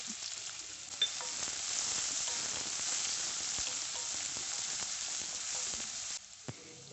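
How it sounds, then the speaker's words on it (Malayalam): Chopped garlic fries in hot oil with a dense, even crackle and hiss close by, broken by a few faint taps, and no voices. "എണ്ണ നന്നായിട്ട് ചൂടായി വന്നിട്ടുണ്ട് അതിനകത്തേക്ക് ഒരു അഞ്ചല്ലി വെളുത്തുള്ളി ചെറുതായിട്ട് ഇരുന്നത്"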